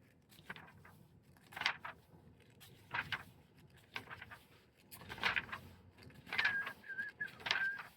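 A person whistles in short, soft, high bursts and brief held notes, faint and somewhat distant, spread unevenly over several seconds against a quiet background.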